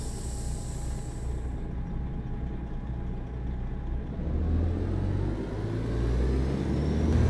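A truck in American Truck Simulator rumbling low and steady as it pulls away on a Santa Cruz city delivery run, the engine note building and growing louder toward the end.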